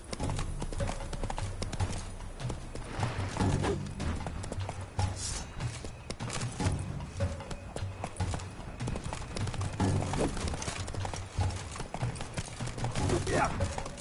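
Roach the horse galloping in The Witcher 3: Blood and Wine, a quick rhythmic clip-clop of hooves running through the whole stretch with game sounds and occasional voices over it.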